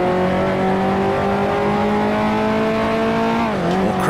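A 1955 Formula One car in a racing video game, its engine holding a steady loud droning note with gear downshifts near the end, the pitch dipping sharply as it changes down.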